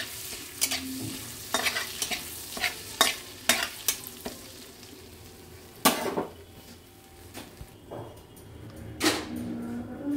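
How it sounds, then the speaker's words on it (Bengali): Bay leaf and whole cumin seeds fry in hot oil for matar paneer, a soft sizzle under sharp, irregular clinks and scrapes of a spoon stirring against the pan. "দিয়ে দিলাম তেজপাতা আর এই হচ্ছে গোটা জিরে। এবার এটা একটু ভালো করে ভাজা হোক।"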